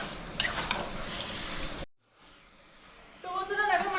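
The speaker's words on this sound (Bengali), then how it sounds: "তো বন্ধুরা দেখো মাংসটা আমি কষে নিচ্ছি" Chicken meat sautéing in a pan during a home family cooking session, sizzling with stirring scrapes, then a brief quiet gap before softer frying returns under a speaking voice.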